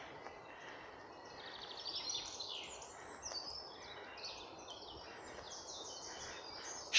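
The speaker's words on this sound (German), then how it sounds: "Die Vögel zwitschern." Birds chirp and twitter softly in an outdoor wooded setting, several high calls overlapping above a steady low hiss.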